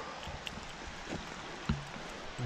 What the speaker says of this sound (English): There's waterfall down there.